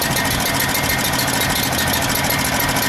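A small pressure washer engine idles steadily at close range, a continuous mechanical rumble with a faint rhythmic knock and no voices.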